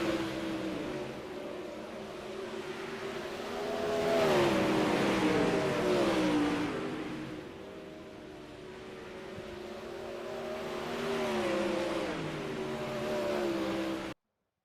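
Sprint car engines in a 360 sprint car esports race at Eldora Speedway drone loudly, pitch sweeping up and down as the pack surges through the turns, a continuous roar of several cars that cuts off abruptly.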